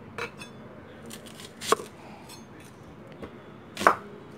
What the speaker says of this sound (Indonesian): Bawang bombay kalau aku motongnya besar-besar ya, seperti ini, kotak-kotak gitu aja.